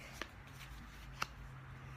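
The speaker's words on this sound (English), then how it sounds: "I'm sitting here shuffling my deck" A deck of divination cards being shuffled by hand, with two sharp riffling snaps about a second apart over a steady low background hum.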